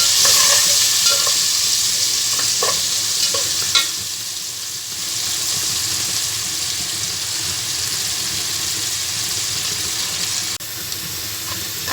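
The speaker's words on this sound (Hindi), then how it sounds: "आप प्याज जो है उनको लाइट टू मीडियम ब्राउन कर लें।" Onions fry and brown in a pot for masar chawal with a loud, steady hiss of sizzling oil, a few stirring clinks near the start, and no voices.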